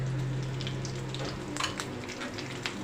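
Green chillies and onions frying in a pan, a soft continuous sizzle with faint crackles and occasional stirring scrapes, heard close but quietly.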